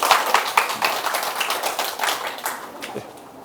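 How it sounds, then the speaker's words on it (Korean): A small audience at a science lecture on chemical recycling of plastics claps to welcome the speaker, a loose run of distinct hand claps that gradually thins and fades out. "박수로 맞이해주세요"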